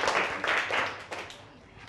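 A primary school class claps briefly for a classmate, a short burst of quick, moderately loud clapping that trails off within two seconds.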